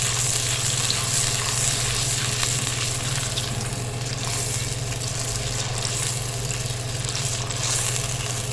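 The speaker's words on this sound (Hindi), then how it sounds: "अब इसमें डालेंगे 1 टेबल स्पून अदरक लहसुन का। और इसको भूनेंगे अच्छी तरह।" Ginger-garlic paste fries with golden-brown onions in a pan, giving a continuous, even sizzle and bubbling hiss that holds steady at close range with no talking.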